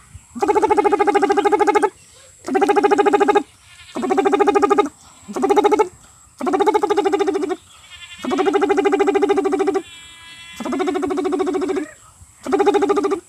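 A human voice imitates the mating call of yellow frogs emerging from burrows, giving eight loud, harmonic croaking bursts of about a second each, separated by short pauses, close and alone.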